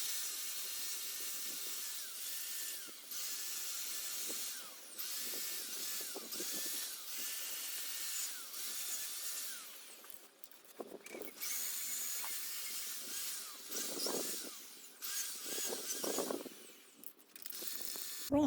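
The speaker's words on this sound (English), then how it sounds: "Now it's time for the full coat of lacquer on the front of the wipers." Lacquer is sprayed onto windscreen wiper arms in a long, steady hiss, broken by brief pauses and a few clunks and shifts near the end, close and moderately loud.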